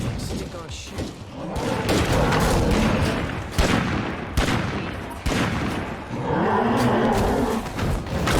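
Video game gunfire in bursts amid booming, roaring action, loud and dense, with voices talking over the fight.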